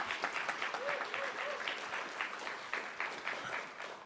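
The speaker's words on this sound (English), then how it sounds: "just a huge round of applause for our sponsors" Conference audience at a Python developer event giving a round of applause for sponsors, sustained crowd clapping with some voices and cheers mixed in throughout.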